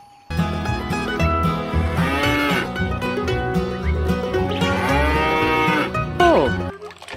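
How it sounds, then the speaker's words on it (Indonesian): A buffalo moos in a dinosaur video game, a long, loud, drawn-out bellow with rising and falling tones over a steady game soundtrack, with no speech. "Wow, ternyata kerbau buffalo."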